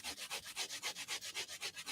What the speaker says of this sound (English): just sanding sponge